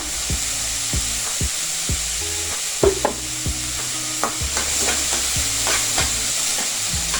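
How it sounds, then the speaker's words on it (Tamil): Sliced onions and a green semi-paste fry in a pan while being stirred, giving a loud, steady sizzle broken by regular scraping and tapping strokes of a spatula. "கட் பண்ணி வச்சுருக்கிற ஆனியன்ஸை இதில் போட்டு நல்லா ஃப்ரை பண்ணலாம்"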